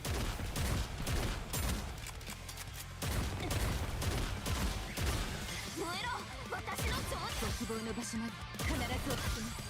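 Dense video game gunfire, rapid loud bursts of shots and crashing impacts repeating across the whole stretch, with someone talking over the shooting at times.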